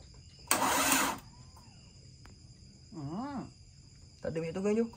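A Proton Satria GTi with a 4G93T engine, parked for two years and without fuel, gives a short, loud burst of cranking. Voices talk briefly afterward.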